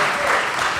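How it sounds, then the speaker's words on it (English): Audience in a church applauding, a dense, steady wash of clapping filling the short moment. "Another round of applause."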